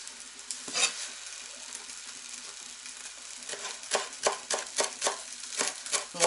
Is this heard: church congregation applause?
no